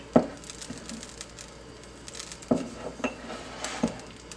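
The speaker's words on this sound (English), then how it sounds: "And then to these areas you just sprinkle your birdseed." Birdseed scattered by hand onto an indoor surface for a natural Yule log offering, heard as a few sharp light clatters and ticks, close and fairly quiet, with soft rattling between them.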